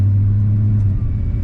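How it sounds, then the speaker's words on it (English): Steady low rumble of a 1989 Chevrolet C1500 Silverado pickup's engine while driving at night on a test drive, a constant deep drone heard from inside the cab with no talking. "we're out here in the truck, just taking it for a quick test drive to show you what it's about"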